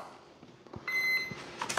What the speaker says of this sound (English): Make sure that both ESCs beep. They did.